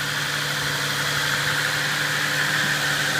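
A 2008 Ford Fusion 3.0-litre six-cylinder engine idles steadily and evenly at close range, a continuous smooth hum with no talking over it.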